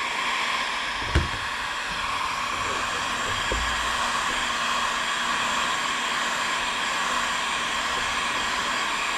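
A heat blower runs steadily, heating a very rusty metal surface, a constant loud breathy roar with a couple of brief knocks, no talk over it.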